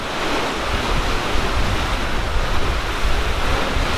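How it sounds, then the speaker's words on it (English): Ocean surf surges and crashes at Thor's Well on the rocky Cape Perpetua coast, a loud, continuous roaring wash of water with wind rushing across the microphone, no voices. "It just sounds like the waves got a little louder."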